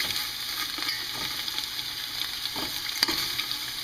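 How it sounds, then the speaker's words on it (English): Sausages searing and browning in a hot pan give a steady, close crackling sizzle with scattered pops and a few clinks of turning them, and nobody speaks. "You're going to flip them, let them sear up a little bit, let them brown up"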